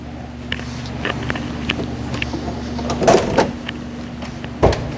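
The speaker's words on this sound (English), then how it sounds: "Let me get the door." Mechanical clicks and clunks of a car door being opened, a few sharp latch sounds over a low steady hum, with a louder thunk near the end.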